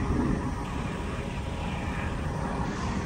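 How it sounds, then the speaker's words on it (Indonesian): A helicopter passes overhead at moderate distance, a steady engine drone and continuous rotor rumble throughout with no talk, near the CPI waterfront in Makassar, Indonesia. "ada helikopter."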